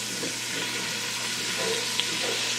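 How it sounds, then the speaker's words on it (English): Flour browns in hot pan grease for a roux, a soft, steady sizzle and frying crackle with light stirring scrapes, close and fairly quiet. "Here's a 1/4 cup of flour that I'm going to put in there and brown real good. essentially making a roux"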